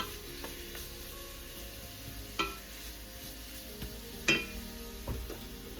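Onions and tomatoes sizzle steadily as they brown in a pan, with a few metallic clinks and scrapes of stirring breaking through the continuous frying hiss.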